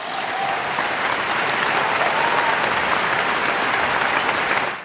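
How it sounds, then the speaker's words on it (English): Crowd applause plays as a podcast soundboard effect, a dense, loud burst of many hands clapping at once, sustained evenly for several seconds and then cut off. "That is a crowd of people applauding you."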